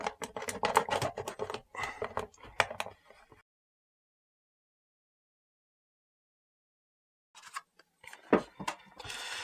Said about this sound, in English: we're going to take a craft knife and we're just going to cut it